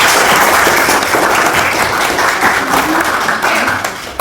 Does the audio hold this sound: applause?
yes